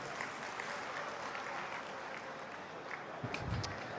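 Audience applause at a live public event honouring a Chief Minister at a Guru Gorakshnath memorial festival in Karnal, a steady dense clapping that holds for several seconds, with a few louder claps and rustles near the end.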